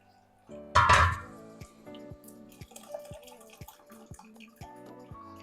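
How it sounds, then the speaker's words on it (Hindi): Homemade shampoo liquid strained through a sieve, starting with one louder splash and pour, then a slow run of small, distinct drips falling close by into a container, with no talk. "ये हमने सारा अपना शैम्पू छान लिया, 2 बार हमने छान लिया।"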